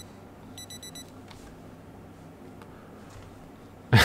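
Electronic clocks in the Project Zomboid video game give a quick run of four high, thin beeps early on, over a low steady hum, with a louder thump at the very end.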